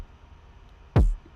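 A single punchy kick drum hit in a remix drum groove, a short, deep thump with a quick decay, heard alone over a faint background.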